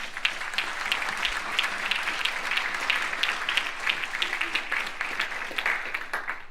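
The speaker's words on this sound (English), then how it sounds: "Now we can applaud, do a temporary applaud here." Audience applause at a Republican candidates' debate for California District 8 in San Francisco, a steady dense round of clapping from a crowd, moderately loud and continuous with no voices over it.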